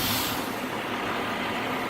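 Steady broadband hiss of a Greyhound bus's air brakes over its engine rumble, loud and continuous for the whole stretch, with no voices.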